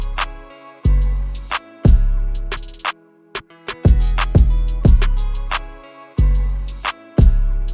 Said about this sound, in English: And the next thing I added was this counter snare right here that sounds like this.